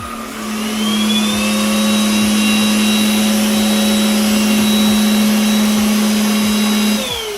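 A Bissell CleanView Swivel Rewind Pet bagless upright vacuum cleaner runs on its highest mode, a constant whining drone with a sustained tone, close by, starting up and cutting off near the end.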